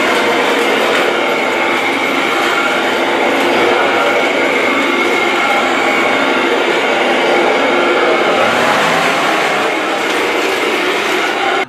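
A toy Thomas the Tank Engine train runs along its tracks with a steady, close rattling and clicking whir that continues without pause and with no voices.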